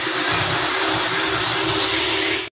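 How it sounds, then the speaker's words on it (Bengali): A sewing machine runs steadily at a clothing market stall in Kolkata, a continuous loud mechanical whir with a constant high whine and no break until it cuts off abruptly at the end. "দেখুন পাশেই সেলাই হচ্ছে"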